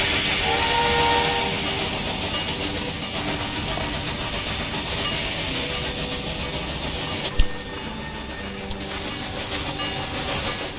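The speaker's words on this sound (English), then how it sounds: "That's where the sugar train goes." Steam train in the Railway Empire 2 game, a steady hiss and rumble of a locomotive running throughout, with a brief sharp whistle-like burst near the middle and no voices.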